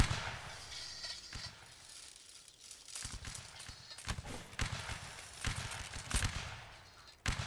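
Musket volleys crack out in a Napoleonic Wars line battle game, with sharp, loud bursts of massed gunfire arriving in quick, ragged succession, alternating with brief lulls.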